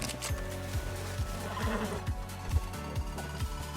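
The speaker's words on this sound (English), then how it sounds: "I have 2 horses, one horse which is Arthur sitting on it, and the other which is following us." A horse whinnies in Red Dead Redemption 2, its neigh rising over rhythmic hoofbeats and the steady clip-clop of a second horse following close behind, with no talk.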